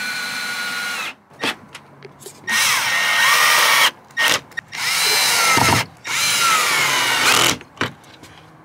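A power drill drives screws into pocket holes on a Ford Transit van build. Several close, loud whining bursts of a second or two each are separated by brief pauses, with no talking.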